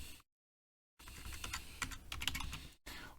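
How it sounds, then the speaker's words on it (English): Close, quiet typing on a computer keyboard, a rapid run of key clicks broken by short pauses of silence, with no voices. "So just click that and type in trigger"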